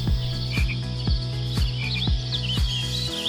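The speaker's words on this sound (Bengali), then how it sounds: "এত সুন্দর পাখির ডাক আর ঝিঝি পোকার শব্দে আপনার মন জুড়িয়ে যাবে" Crickets trill steadily in a village while birds chirp and call, with a loud, pulsing insect drone throughout and no talk.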